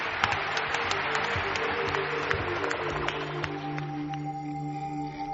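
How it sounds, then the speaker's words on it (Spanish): Studio audience applauding Mariano Revilla on a Spanish radio program, a steady dense wash of clapping that holds evenly throughout and thins slightly toward the end. "Mariano, nuestro aplauso"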